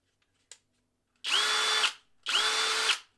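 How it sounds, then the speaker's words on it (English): A Parkside PBSPA 12 C3 brushless cordless drill spins up twice in short bursts of about half a second each, a close, high, even whine with a click just before. "The drill itself, model PBSPA 12C3, with brushless motor of course."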